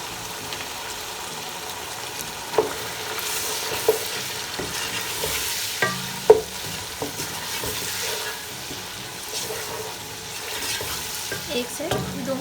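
Chicken chow mein frying in a pan, a soft steady sizzle broken by scattered scrapes and clinks of stirring, fairly quiet, with no talking.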